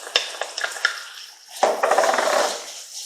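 Vegetables and minced garlic sautéing in a pan for a pizza casserole, with sharp spoon-on-pan clinks and scrapes over a soft sizzle that swells louder in the second half, close and without talk.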